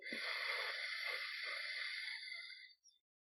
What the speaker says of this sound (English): Plug the left, inhale right.